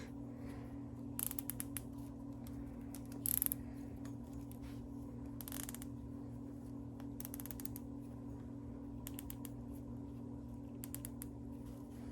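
Ratchet tightening bolts on a 2007 KTM 525 motorcycle, quiet intermittent clicking bursts of the pawl over a steady low hum, a few short rattling runs spread through a quiet workshop.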